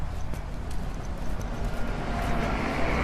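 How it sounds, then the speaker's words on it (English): Street traffic on a roadside during a news report, a loud, busy mix of rumbling vehicles and rhythmic clopping knocks, with no voices. "Traffic noise."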